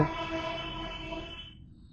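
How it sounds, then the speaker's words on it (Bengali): A train passing near the Jatrabari crossing in Dhaka, a loud rumbling rush with a steady tonal hum that fades out after about a second and a half. "ট্রেন যাচ্ছে"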